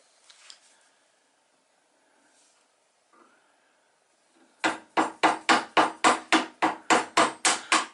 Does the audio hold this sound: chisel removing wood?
yes